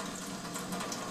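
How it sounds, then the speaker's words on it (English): Alkaline water pours steadily from the gooseneck spout of an Enagic SD501 ionizer, a constant soft rushing stream with no breaks, fairly quiet. "while the alkaline water is coming out of the gooseneck"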